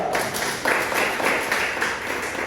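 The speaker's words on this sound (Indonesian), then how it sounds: "Tepuk tangan dulu, John." A classroom claps for a student after a correct answer, a brief steady patter of many hands at moderate volume with no voices on top.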